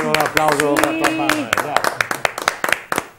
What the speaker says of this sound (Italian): Facciamo un applauso per Tommaso